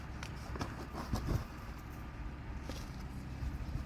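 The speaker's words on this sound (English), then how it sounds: "If you hear something in the background, it's the tractor next door." A tractor runs on a neighbouring farm as a low, steady rumble in the distance, with faint knocks and rustles nearby and no talking.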